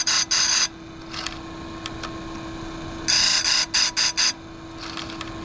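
An electric chain grinder sharpens a Stihl chainsaw chain outdoors, giving short, bright, grinding bursts in repeated pulses, some quick and clustered, over a steady motor hum.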